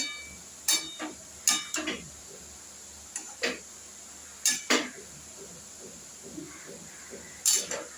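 A metal pot being covered and handled in a home kitchen, heard as several sharp, close clanks and clinks spaced irregularly across a quiet background.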